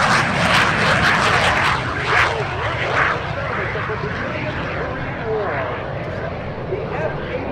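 Jet fighters make a low, loud flyby at an airshow, a continuous roaring engine wash that swells and slowly fades, with a narrator talking over it throughout.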